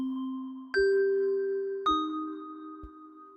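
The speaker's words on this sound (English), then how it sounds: "More room size, bigger room. Now you hear more reflections." FM synth bells from SurgeXT ring out in three separate struck tones, each with a bright attack and long sustained shimmer washed in large-room reverb, clean and moderately quiet with no other sound.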